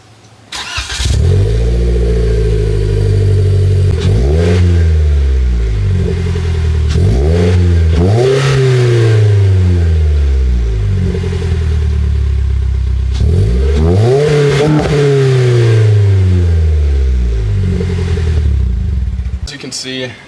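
A 2022 Toyota Corolla hatchback with a Remark catback quad exhaust revs repeatedly through a deep, throaty exhaust, several sharp rises and falls in pitch, loud and close, with a steady idle between blips.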